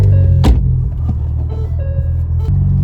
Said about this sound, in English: So, I guess first start up with the new exhaust.